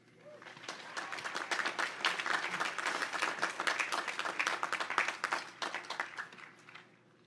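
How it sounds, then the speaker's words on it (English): A crowd at a college graduation ceremony claps for the graduates' parents, a dense, sustained round of applause that swells, holds for several seconds and then tapers off, with no voices over it. "So please show your love and appreciation with a round of applause."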